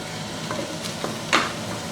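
Taco filling fries with a soft, steady sizzle in a pan as a few scattered stirring scrapes and taps break through, close up, with no voices.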